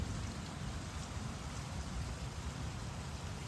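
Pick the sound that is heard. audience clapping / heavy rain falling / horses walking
heavy rain falling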